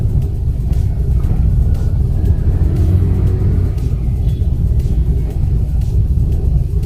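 Manual car engine held at a steady low rumble with light throttle while reversing slowly out of a garage, close and continuous with no voices.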